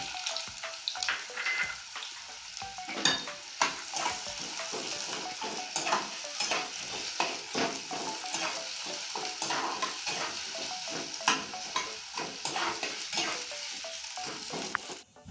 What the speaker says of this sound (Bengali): সবার প্রথমে আমি পেঁয়াজের ব্রেস্তাটা ভেজে নিচ্ছি